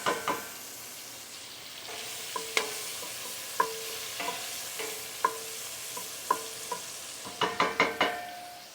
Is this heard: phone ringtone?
no